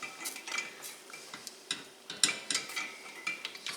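A whisk beats a thickening sauce in a pan, making quick repeated metallic clicks and scrapes in an uneven rhythm, close by and fairly quiet, with no talking.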